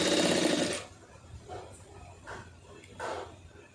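A sewing machine stitching a neck design runs in one loud, rapid, buzzing burst, then stops and gives three short, quieter runs of stitches.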